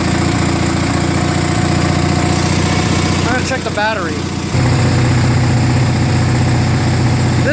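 Murray Ultra garden tractor opposed-twin engine idling on slow throttle, a steady low drone up close, with brief talk in the middle before the idle settles slightly deeper.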